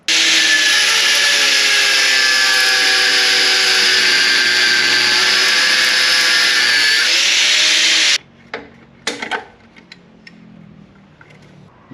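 Power tool cutting through a corroded bolt on a Can-Am Spyder, a loud steady grinding whine for about eight seconds, then stopping, followed by a few scattered clanks and handling noises.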